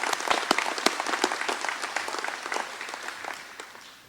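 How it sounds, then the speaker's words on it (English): An audience at an annual meeting breaks into applause, a crisp burst of many hands clapping that stays lively for a few seconds, then thins and fades toward the end. "Let's give a round of applause for this group."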